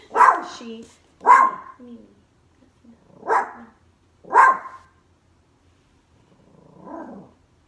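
A guard dog barks at people walking by, four loud, close barks in two pairs spaced a second or two apart, followed by a softer whine-like sound.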